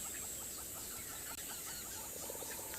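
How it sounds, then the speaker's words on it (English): Many birds call at once in a busy outdoor chorus, with chirps and clucking layered over a constant high hiss, moderately distant, at sunrise on Tswalu reserve in South Africa. "A lot of birds are calling."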